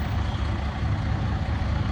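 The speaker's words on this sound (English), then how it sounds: "There are noisy trucks everywhere" Noisy trucks rumbling along a New Orleans street in the early afternoon, a continuous loud low engine roar with no distinct pauses.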